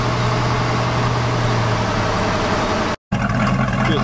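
Steady, loud tire roar from a brown truck on the road, heard from inside the cab as a continuous broadband rumble with a momentary cutout.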